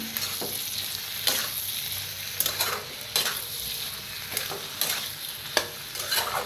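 Jaggery and crushed peanut powder being stirred into a pumpkin dish in a pan: repeated scraping strokes of a spoon every second or so over a steady background sizzle, close and moderately loud, no talking.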